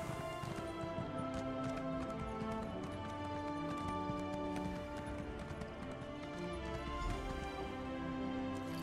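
Horse hooves clip-clopping in The Elder Scrolls Online, a steady rhythmic patter of hoofbeats under game music, fairly faint and continuous.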